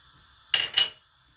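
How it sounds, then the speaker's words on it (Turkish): A spoon stirring granulated coffee into a mixture makes two quick, bright clinks against the bowl in close succession. Near silence comes before and after them. "Karıştırıyoruz."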